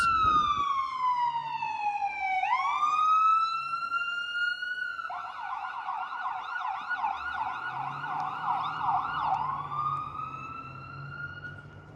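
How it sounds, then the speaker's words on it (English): An ambulance siren on a Toronto street wails, sweeping down and up in pitch, then switches to a fast warbling yelp before settling back into a steady wail, fairly loud and close. "Oh, there's an ambulance."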